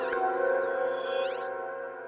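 Behringer Deepmind 12 synthesizer patch with spread unison voices detuned into dissonance and long reverb, a sustained eerie chord with swooping high sweeps that fades into its reverb tail.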